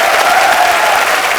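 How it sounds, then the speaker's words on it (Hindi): A large television studio audience at a comedy talk show breaks into loud, dense, sustained applause, close and continuous with a faint cheering tone running through it and no talk on top. "क्या बात है, जोरदार तालियां हो जाए।"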